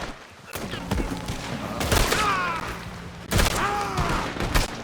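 Gunfire in a Red Dead Redemption 2 shootout, with dense bursts of shots and booms spread across the scene, mixed with shouting voices and a rising music and effects bed.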